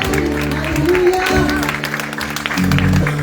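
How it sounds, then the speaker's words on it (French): A church congregation claps during an evening service while a voice speaks over it, the applause fairly loud and mixed under talk. "Un bon applaudissement pour l'apôtre Julien et pasteur Lismé."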